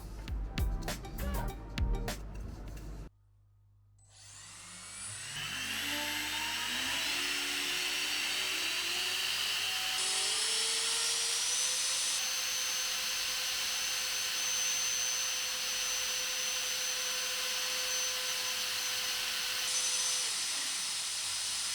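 An electric ducted fan of about 182 grams runs on a 4S battery, spooling up with a rising whine into a loud, steady high-pitched roar and hiss that holds close and continuous, after a brief burst of other sound.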